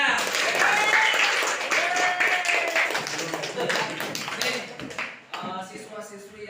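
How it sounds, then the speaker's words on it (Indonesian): Students in a classroom clap their hands together in a lively burst of applause, close and loud at first and then thinning out, with voices mixed in. "Beri tepuk tangan buat semuanya."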